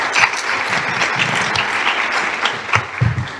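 Steady applause from a crowd, dense clapping that holds evenly throughout at a strong level.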